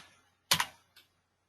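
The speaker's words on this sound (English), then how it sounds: "So I can simply do this thing by typing this type of query." A few keystrokes on a computer keyboard while typing a database query, a close clustered burst of clicks followed by a single lighter tap, then silence.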